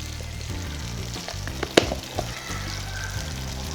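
A drumstick pickle mixture with tamarind pulp bubbling and simmering in a pan, a steady close hiss broken by one brief sharp clink midway.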